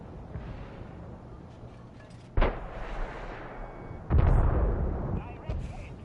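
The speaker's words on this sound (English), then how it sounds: "See if we can get this guy with a rocket" Rocket fire and explosions in the tank battle game World of Tanks, two sharp heavy blasts a couple of seconds apart over a low rumbling background, with a voice speaking in between.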